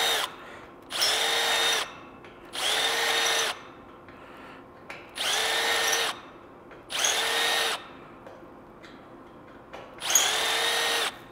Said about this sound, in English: At some point throughout the season, we're going to use every one of those holes, so we're just going to drill them out.